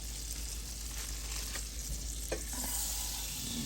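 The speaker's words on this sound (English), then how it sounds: "You can hear it sizzling." Butter and a corn tortilla sizzle in a preheated skillet, a steady close crackling hiss with faint stirring scrapes and no one talking.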